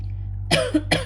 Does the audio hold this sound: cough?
yes